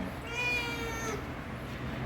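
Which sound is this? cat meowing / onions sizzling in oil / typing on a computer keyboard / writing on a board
cat meowing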